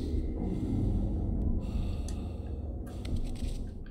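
Heavy, ragged breathing with snorts and gasps from a character in the horror video game The Suffering, close and steady for several seconds over a dense low game-ambience rumble.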